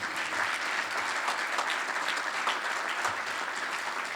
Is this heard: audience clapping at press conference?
yes